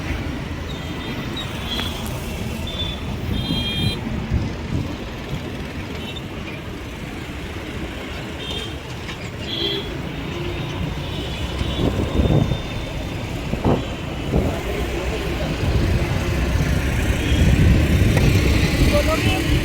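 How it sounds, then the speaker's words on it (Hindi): Road traffic in Jhunjhunu makes a dense, continuous roar of passing vehicles with engine rumble throughout. Scattered brief tones rise above it, and people talk over the noise. "ये हमारे झुंझुनू का ट्रैफिक।"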